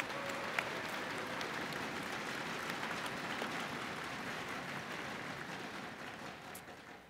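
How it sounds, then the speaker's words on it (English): Audience applause for award finalists at a college convocation: a steady wash of many hands clapping, fairly distant and even throughout, with no speech over it. "Let's give them all one more round of applause."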